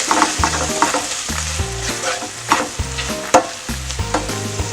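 Sautéed wild mustard greens with a dash of lemon juice are stirred in a hot pan, giving a steady sizzle broken by repeated scraping strokes of a utensil.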